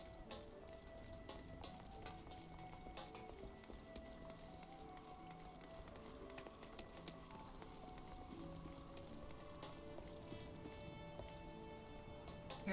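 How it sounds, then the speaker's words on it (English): Steady clip-clop of horse hooves at a brisk pace over game music in Final Fantasy XIV, continuous and moderately close. "I'm bringing a horse to the restaurant"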